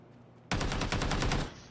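After a quiet moment, a sudden loud burst of rapid automatic gunfire erupts in a shooter video game, fast evenly spaced shots lasting about a second before cutting off.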